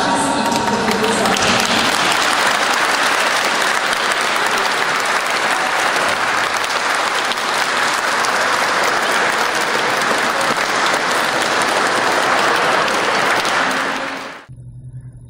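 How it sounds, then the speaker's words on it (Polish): Loud, sustained applause from a school celebration crowd, dense clapping filling the space for about fourteen seconds before cutting off abruptly into near silence. "Jeszcze serdeczne brawa wszystkim, którzy są."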